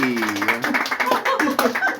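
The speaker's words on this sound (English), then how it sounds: "Why are you clapping?" Hands clapping at a tabletop gaming session, a quick run of claps mixed in with overlapping chatter and laughter from a small group of friends.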